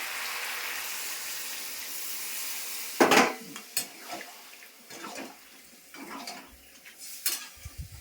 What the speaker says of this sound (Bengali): এখন জল দিয়ে দিচ্ছি একটু